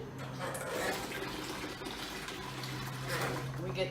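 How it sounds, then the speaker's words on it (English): Tap water running into a container for kitchen cleaning, a continuous rushing and splashing stream with a steady low hum behind it, close by and moderately loud throughout. "We get some water"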